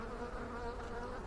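A honeybee buzzes steadily and close by as it bounces against a beekeeper's veil during a hive inspection. The drone is continuous and fills the whole moment with no talk over it.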